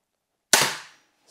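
A single sharp crack from an X-Bow FMA Supersonic Tactical crossbow test shot, a loud snap after silence that decays quickly, with a faint click at the end.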